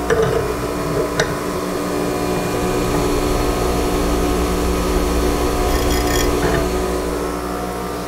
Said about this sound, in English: Now all I have to do is grind.